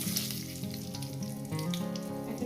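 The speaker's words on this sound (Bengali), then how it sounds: "সামান্য পরিমাণে জিরে দিলাম একটু জিরেটা ভাজা ভাজা হবে" Steady crackling sizzle of cumin seeds frying in hot oil, loud and close, continuing without pause.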